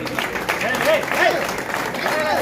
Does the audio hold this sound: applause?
yes